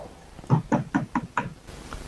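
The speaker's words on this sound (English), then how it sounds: "Knock for me." Five sharp knocks on a door in an uneven rhythm, close and clear with quiet room tone around them and no talk.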